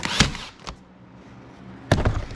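A staple gun fires into material on a model train layout mountain build, two or three sharp, close snaps spaced apart over low background hum.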